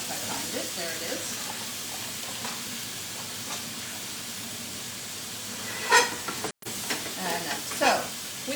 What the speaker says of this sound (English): with your ground beef, you want to kind of let it start cooking before you start breaking it up